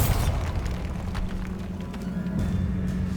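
The Bombarda blasting spell in Hogwarts Legacy sets off a loud, booming explosion with a rumbling low tail that continues under a sustained hum, and a second burst swells near the end.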